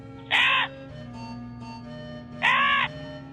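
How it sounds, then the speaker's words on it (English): Two loud, harsh crow caws spaced about two seconds apart, standing out over a steady low hum. "Suddenly, Crow saw a pitcher in the garden at a distance"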